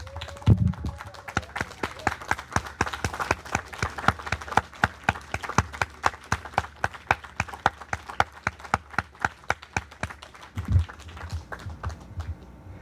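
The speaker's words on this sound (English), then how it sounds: "give the faculty a round of applause for their amazing work" Graduates and guests at a 2020 machinist training program graduation applaud the faculty, a dense run of many hands clapping that swells, holds steady and thins toward the end, with no talking over it.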